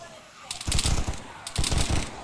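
Gunfire in the video game DayZ: two short bursts of rapid shots, close and fairly loud, separated by a quiet gap.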